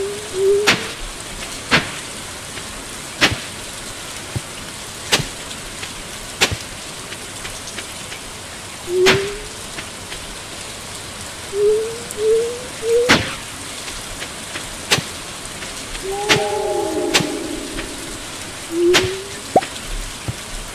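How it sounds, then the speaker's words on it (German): Rain falling in the farming video game Stardew Valley, a steady soft patter under a series of sharp clicks and several short chirpy tones, with a longer tonal swell near the end. "Gut, dass es heute regnet."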